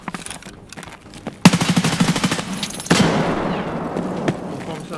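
Gunfire and a grenade blast in the shooter game Escape from Tarkov: a sudden rapid burst of automatic shots, then a loud boom that rumbles away, at fairly close range.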